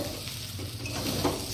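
Chicken pulao mixture stirred in a kadai, a steady close scraping and stirring over a soft, continuous sizzle, with no voices.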